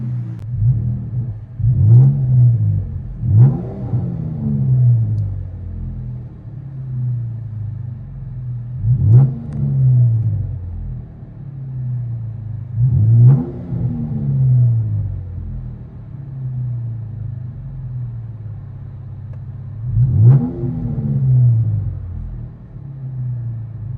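A 2014 Dodge Charger's 3.6L V6 on true dual exhausts with Flowmaster Super 10 mufflers, heard from inside the cabin: a low steady drone broken by several rising revs that swell and fall back.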